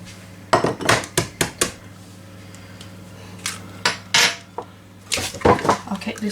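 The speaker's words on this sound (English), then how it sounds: "I'll keep this bowl out so we can use it for the other." A mixing bowl and dishes clatter and clink during home baking, with sharp ceramic and metal knocks in clusters separated by short gaps, close and fairly loud against a low background hum.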